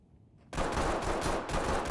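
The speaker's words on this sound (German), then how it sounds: "Weiß nicht, wo die Schüsse herkommen." After a brief quiet moment, a sudden burst of rapid gunfire erupts and continues loudly, dense and sustained like an automatic weapon in the game Ready or Not.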